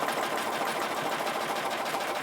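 A sewing machine stitches thread in a thread-scribbling piece, running as a steady, close, continuous rapid whir for a couple of seconds with no pauses and no voices.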